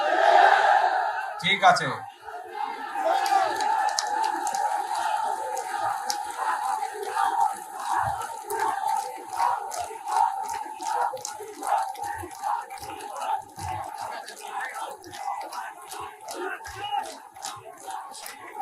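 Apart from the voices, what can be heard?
crowd at a rally shouting slogans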